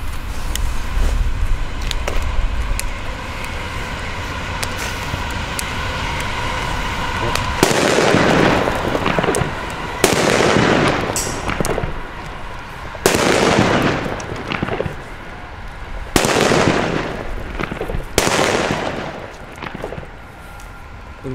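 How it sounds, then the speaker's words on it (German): Several loud Funke Thunder Crackers D firecrackers, Chinese P1 bangers, burst one after another at irregular intervals, each with a sharp crack and a crackling tail, over steady outdoor background noise. "Wirklich richtig, richtig gute Böller. Ihr habt es gehört, die hatten richtig Druck."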